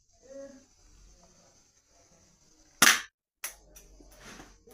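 Airsoft pistol fired at a target, two sharp snapping shots close together near the end, loud and crisp against a quiet room with faint background noise before them.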